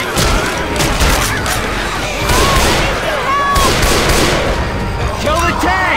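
Dense, loud gunfire from several players shooting at the Tank in the zombie shooter Left 4 Dead, with rapid overlapping bursts and crashes running continuously alongside shouted voices.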